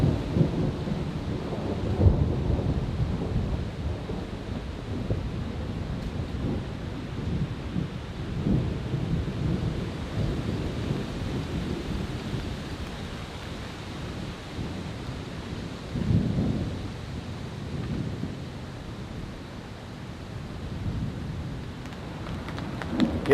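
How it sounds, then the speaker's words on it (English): Wind and thunder rumble through a silent forest during an intense storm while camping in Japan, a steady low roar with swelling surges and no voices. "Nothing's making a peep except for the wind and the thunder."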